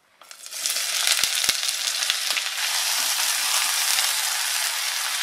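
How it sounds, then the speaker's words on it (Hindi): Onions sizzling and frying steadily in a hot pan with whole spices for bhuna mutton, a dense continuous crackle after a quiet start, with a few faint stirring knocks early on. "इस प्याज को हमें ब्राउन होने तक भूनना है"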